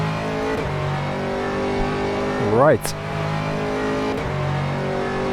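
An Aston Martin GT3 race car engine in the rFactor racing sim at the Nurburgring drones with a steady harmonic note near the pits, while another car sweeps past mid-clip with a sharp rising pitch; a voice speaks one brief word.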